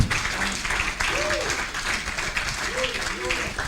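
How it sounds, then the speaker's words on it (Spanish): Steady applause from a crowd fills the whole stretch, with a voice speaking over the clapping. "Un aplauso gigante."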